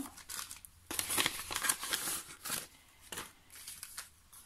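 A paper envelope being torn open up close, with bursts of crisp crinkling and tearing that come in several short rustling spurts.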